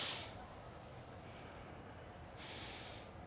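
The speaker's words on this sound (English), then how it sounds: "if you'll lift your hand, your right hand, please, to your face, and just sniff the back of it" Members of a gathering sniff the backs of their right hands, producing soft, faint nasal inhalations spread across a quiet room with a low background hum.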